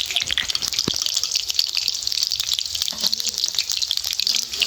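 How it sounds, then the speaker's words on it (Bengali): Cauliflower pieces fry in hot oil for a honey garlic cauliflower dish, giving a close, continuous sizzle full of fine crackles and pops that stays even and loud throughout. "প্রথমে যে ফুলকপিগুলো তেলের মধ্যে ছেড়েছিলাম ভাজা হয়ে গেছে।"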